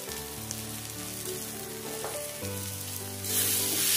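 Ground spices (coriander, cumin, turmeric, Kashmiri chilli and black pepper) fry in oil for mutton curry with a steady close sizzle. Faint tonal hum runs underneath, and the hiss swells louder near the end.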